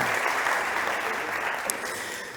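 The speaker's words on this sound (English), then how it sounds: "Big applause for Giuseppe." Audience applause for a contestant at an industry startup pitch competition, a loud, continuous wash of many hands clapping that tapers slightly toward the end.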